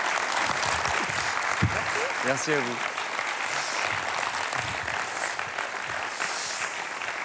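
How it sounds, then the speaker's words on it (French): An audience applauds Béatrice at a live talk event, a steady, dense wash of clapping that lasts throughout, with someone briefly speaking over it. "On applaudit Béatrice, s'il vous plaît."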